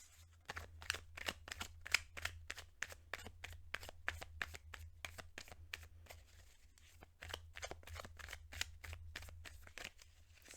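Tarot cards are shuffled by hand in a long run of quick, crisp riffling flicks, close and fairly quiet over a low steady hum, with no talking.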